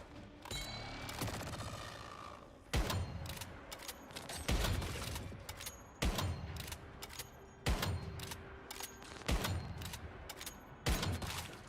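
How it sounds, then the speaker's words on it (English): Gunfire in the video game Once Human, loud repeated bursts of shots in a steady rhythm, each salvo separated by brief gaps, with mechanical clicks between them. "I'm really bad at shooting things, it seems."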